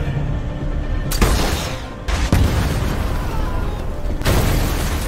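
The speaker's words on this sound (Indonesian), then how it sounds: "sebuah serangan RPG sukses membuat satu mobil pengawal Donovan meledak" Heavy, loud booming blasts roar one after another as a car explodes from an RPG attack in a film, with a sustained rumbling explosive wash filling the whole stretch.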